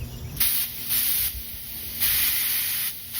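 Air hisses out of a bicycle tire valve when the pump head is not seated properly, loud close bursts of spraying air that start and stop several times in irregular pulses.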